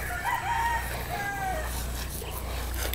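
Chickens at a small backyard breeding farm, with a rooster's crow and scattered clucking over a constant low rumble of farm background noise.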